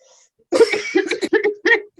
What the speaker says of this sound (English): go ahead and cough all